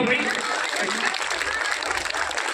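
A crowd claps in a dense burst of applause at an Ambedkar Jayanti celebration, loud and close, with voices mixed in.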